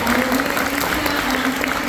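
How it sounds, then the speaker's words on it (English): Audience applause for a panel of film judges at a Q&A event, a steady wash of clapping hands throughout with a faint hum underneath. "Can we please have a round of applause for our panelists here?"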